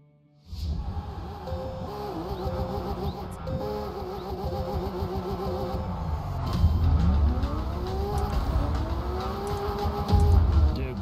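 A Porsche races in The Crew 2, its engine starting then revving loudly and steadily, pitch sweeping up and down through gear changes as it accelerates close by.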